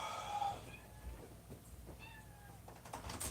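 Cat meowing to be let outside, several plaintive meows at moderate distance separated by short pauses, in a quiet room.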